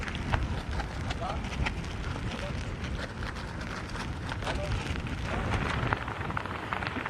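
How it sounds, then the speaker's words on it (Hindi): Heavy rain during Cyclone Biparjoy in Kutch pours in a dense, steady hiss under dark storm clouds, with someone talking over the downpour throughout. "यहाँ आसपास पूरी तरह से जो काले बादल हैं वो छाए हुए हैं और बारिश बहुत तेज है"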